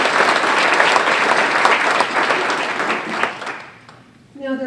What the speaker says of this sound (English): please join me in giving Peter and his team a round of applause for pulling this together today.